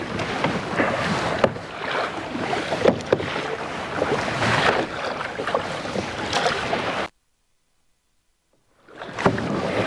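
Kayaking on the Arabian Sea off Lakshadweep: steady wind buffeting and water sloshing around the kayak hull, a continuous close rush that cuts out abruptly to silence before resuming.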